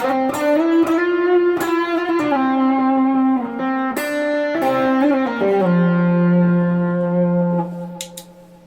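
An electric guitar with heavy distortion plays a short line of sustained notes, finishing on a long low note that fades out.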